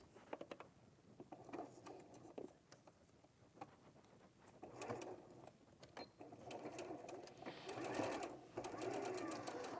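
A sewing machine runs in bursts as it stitches quilt pieces at a 1/4 inch seam allowance with a 2.2 stitch length, rapid needle clatter starting and stopping close by, with no talking.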